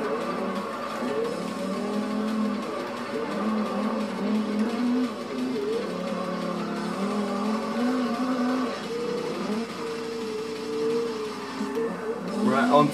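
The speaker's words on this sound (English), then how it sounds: "this Ken Block's rally car is not too bad" Ken Block's rally car in the Forza Horizon racing game, its engine droning steadily with shifting pitch throughout and some faint overlaid game sounds; a voice talks over parts of it.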